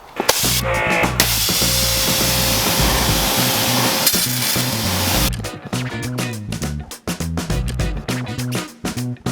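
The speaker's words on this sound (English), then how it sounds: "And now let's spray it down." A loud hiss of water spraying onto a car wheel for several seconds, then stops, followed by rhythmic thumping music with sharp beats.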